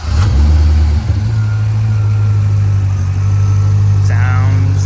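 A 2012 Chevrolet Corvette LS3 V8 cranks briefly and fires, then settles into a steady, loud, close idle with a deep low rumble that holds for several seconds, with a faint higher whine near the end.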